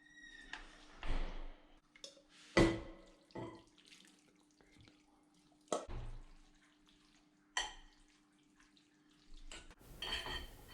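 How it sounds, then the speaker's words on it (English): Miso broth is poured over salmon in a kitchen, with short splashing bursts and clinks of pot and dish separated by quiet gaps, close and moderately loud. "And now we can pour the delicious broth onto our salmon"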